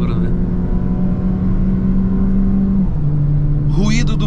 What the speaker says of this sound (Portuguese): Ruído do motor não tem muito por onde fugir. Aspirado em rotação mais alta.